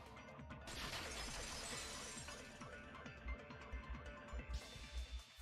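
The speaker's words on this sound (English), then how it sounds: "they heard the sound of the window shattering" Glass shattering in the video game Danganronpa 2, a loud crash and spray of breaking glass followed by a scatter of smaller clinks and tinkling shards falling, with no talk.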